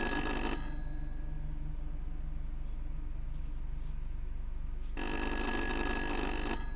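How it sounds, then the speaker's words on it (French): Telephone ringing in the horror game Little Hope, a loud electronic ring that sounds for about half a second, falls silent for several seconds, then rings again near the end. "Décrochez ce téléphone."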